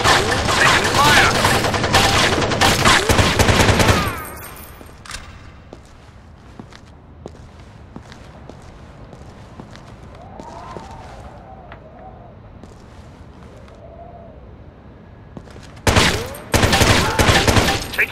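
Bursts of automatic gunfire from a firefight in the Xbox game Rainbow Six 3: Black Arrow, loud and dense for several seconds at the start and again at the end, with quieter footsteps and faint radio-like voices in between.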